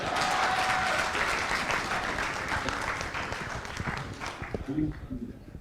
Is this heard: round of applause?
yes